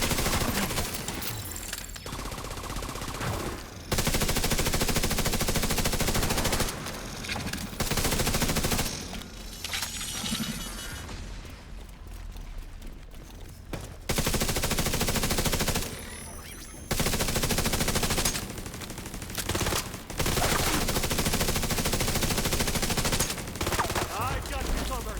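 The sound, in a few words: gunfire in the video game The Division 2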